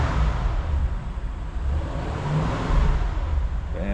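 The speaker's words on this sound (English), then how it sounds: "we'll give the car a little rev and let you hear what it sounds like" A cold Audi C7 S6 engine revs lightly and stays below 3000 RPM, producing a close, loud, rumbling drone that swells and eases in small waves.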